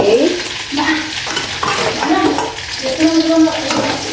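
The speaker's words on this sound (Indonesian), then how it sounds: "Ini kita goreng." Fish sizzles loudly in a frying pan alongside prawn crackers and salt, a dense crackling hiss broken by scraping and stirring of a utensil, close up.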